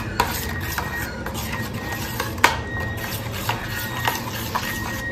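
Paneer is mixed with gravy in a bowl before going into a tiffin box, giving soft stirring scrapes and occasional light clinks of a utensil against the dish under a low background hum.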